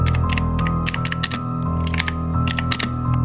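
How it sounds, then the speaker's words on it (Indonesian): Rapid computer keyboard clacks in uneven bursts during late-night overtime work in an office, over a steady low hum. "suara keyboard yang terdengar jelas"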